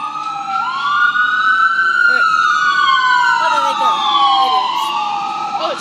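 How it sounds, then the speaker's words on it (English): A police car siren passes by outdoors, its loud wail sweeping up and down and shifting in pitch as the vehicle goes past. "Cops are gonna go by."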